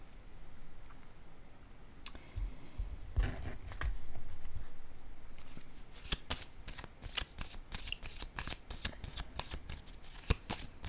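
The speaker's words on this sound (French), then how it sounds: "Je vais piger une carte pour ici." Cards from a deck are handled and one is drawn, with soft sliding and then a rapid run of crisp riffling clicks, close and quiet, with no talk.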